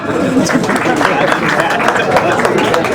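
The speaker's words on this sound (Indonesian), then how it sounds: "Tepuk tangan buat kalian semua." An audience at a stand-up comedy show applauds steadily, a dense, even wash of many hands clapping with crowd murmur mixed in, continuous and loud throughout.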